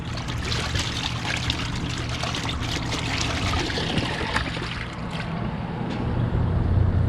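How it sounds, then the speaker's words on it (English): Water pours steadily into a portable washing machine used for full-time RV living, a continuous close splashing trickle that runs unbroken and grows slightly louder toward the end. "I'm probably gonna add more water."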